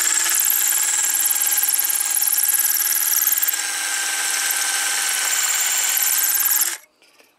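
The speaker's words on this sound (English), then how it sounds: "This is the worst concrete drill bit I have ever seen in my life." A power drill with a concrete drill bit whines steadily at high pitch for several seconds, grinding into concrete, then abruptly stops.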